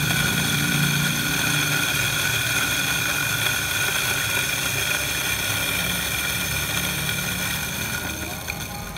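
An electric coffee grinder set finer to 4.5 grinds coffee for kopi tubruk, a loud steady motor whir with bright whining overtones that holds evenly and eases off slightly at the end.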